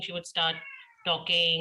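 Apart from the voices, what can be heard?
cat meowing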